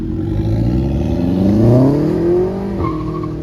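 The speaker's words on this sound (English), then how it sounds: "So let's see how the GTI sounds." A Volkswagen GTI engine revs up close at a car meet, the pitch climbing steadily before dropping off, with a brief chirp near the end.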